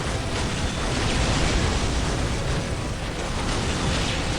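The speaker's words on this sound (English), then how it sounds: "So now I can watch the fireworks." Fireworks bursting in a 3v3 strategy video game match, a dense, continuous roar of overlapping pops and booms filling the whole stretch at steady loudness with no talking.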